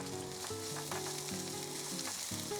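Chopped green onion sizzles steadily in cooking oil over medium heat while making a Korean stir-fried zucchini dish, a continuous close frying hiss with no talking.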